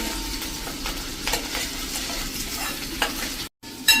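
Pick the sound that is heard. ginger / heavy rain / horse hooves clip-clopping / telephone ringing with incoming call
ginger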